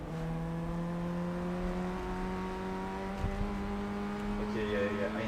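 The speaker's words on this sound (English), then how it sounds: "I'm braking down to third for this double right-hander." A Formula Ford 1600 race car at Oulton Park drones with a steady engine note that shifts pitch as it brakes and drops a gear for a double right-hander, with tyre and wind noise.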